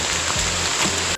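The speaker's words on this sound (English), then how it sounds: "it's straight up pouring." Heavy pouring rain on a Virginia road trip, a dense continuous hiss with a low rumble underneath, steady and loud before cutting off abruptly.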